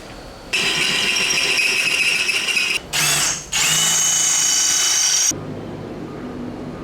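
Loud, close whine of a power drill running countersink bits on a Leopard catamaran, held for about five seconds with one brief dip in the middle before it stops.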